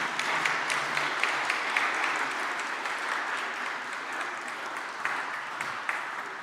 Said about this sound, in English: Ladies and gentlemen, applause, please.